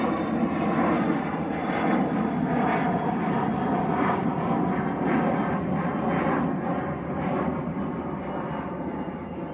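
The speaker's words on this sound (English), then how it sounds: "A little citation, just about to get airborne." A Cessna Citation business jet is taking off at Manchester Airport, giving a steady, moderately distant rumbling engine roar that holds level for around ten seconds with no one speaking.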